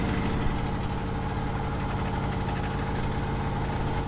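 Ford F250 pickup idling on an icy canyon road, a steady close rumble with an even low throb and no change in pace.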